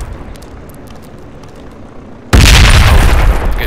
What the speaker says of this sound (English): I'm gonna throw another grenade down there